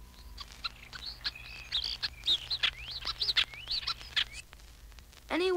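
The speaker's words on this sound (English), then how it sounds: "Starling." Starling calling in a city setting, a rapid run of whistles, clicks and slurred chirps repeating over about five seconds, fairly close and clear against a low background hum, with a brief harsher burst at the end.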